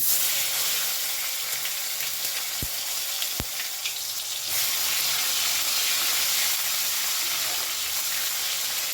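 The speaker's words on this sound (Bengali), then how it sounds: "বেগুন ভাজা তেলের মধ্যে দিয়ে দিলাম হাফ চামচ কালো জিরে আর দেব এক চামচ মতন হিং দিয়ে দিলাম কেটে রাখা টমেটো" Chopped tomatoes fry in hot oil with nigella seeds and asafoetida, giving a steady, close sizzle that runs throughout, with two brief sharp knocks partway through.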